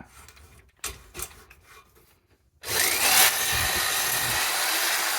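A few scrapes and knocks, a short silence, then a power drill whirs into a loud, steady high-pitched grinding against metal while honing a JAWA 350 motorcycle engine cylinder.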